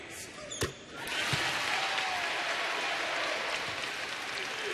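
A basketball crowd swells into sustained applause on senior night, a broad roar that builds after a sharp bounce or thud and then holds steady and full.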